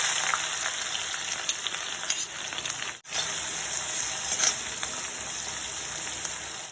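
Crushed shallots and garlic dropped into hot oil with popped mustard seeds, frying in a loud, dense, steady sizzle with a brief dip partway through.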